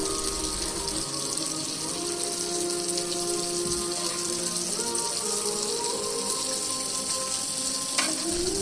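Fried broiler chicken pieces sizzle steadily in spicy masala in a pan, a continuous close hiss with faint stirring sounds throughout, no voices.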